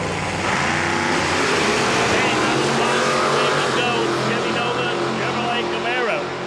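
A 1972 Chevy Nova and a Camaro race side by side at a Texas drag strip, their engines a loud, sustained roar with rising and falling pitch. The noise fills the whole stretch and masks the background.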